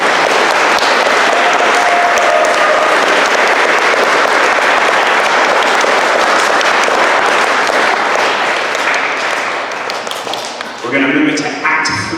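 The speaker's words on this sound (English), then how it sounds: "So if you'll all give a round of applause to Laura Galea, Ryan Harris, Anna Jensen, and Carl Schemmer-Couch." An audience at an intermediate school band concert gives a sustained round of loud, dense applause that thins out near the end, as a voice begins speaking over the tail.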